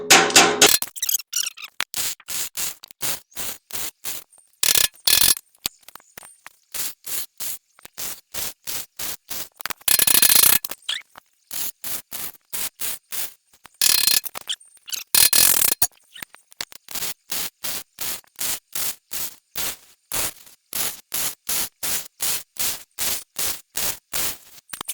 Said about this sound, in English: weld it, tap it, weld it, tap it.